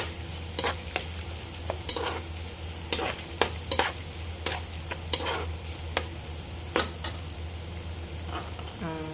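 Ingredients for Malaysian sambal tumis sizzling in a pan while a utensil stirs, scraping and clinking against the pan in irregular strokes over a steady frying hiss, close up.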